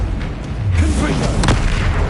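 Confringo blasting spell exploding in Hogwarts Legacy, a deep booming burst with low rumble and a sharp crackling hit, set against busy combat noise.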